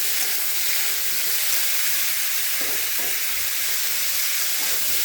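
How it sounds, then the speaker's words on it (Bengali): Potatoes fry in a pan with an even, close hiss of oil that holds steady throughout, broken by a few soft scraping stirs near the middle, with no voices. "আলুগুলোকে ভেজে নেওয়া হবে আগে"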